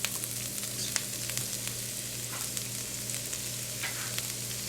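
Celery and green onions stir-fry in hot canola oil, giving a continuous close sizzle with light stirring scrapes and no talking.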